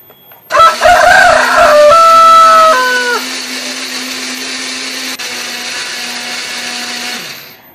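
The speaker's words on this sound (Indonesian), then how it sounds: "Kita akan menghaluskannya menggunakan blender." Kitchen blender grinding a spice paste of pepper, coriander, ginger, garlic and shallots, a loud steady whir for about seven seconds with the pitch sliding in steps as the blades load and free, then cutting off.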